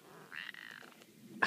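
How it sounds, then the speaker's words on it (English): A stray cat gives an odd, croaky, frog-like meow, a short nasal wail followed by a brief sharp squeak, faint and close in a quiet setting. "Kitty. You sound weird. Sound like a frog."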